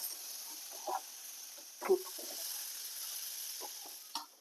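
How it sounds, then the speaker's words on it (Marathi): Cluster beans being stir-fried in a kadai, giving a faint, steady sizzle with a few soft stirring scrapes and taps, heard alone without talk. "गवार आपण छान अशी जरा परतून घेतली"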